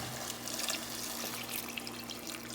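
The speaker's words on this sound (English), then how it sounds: "Now I'm going to add some water." Water streams steadily into a cooking pot holding chicken and carrots for Puerto Rican pollo guisado, a continuous close pouring and splashing with no talking.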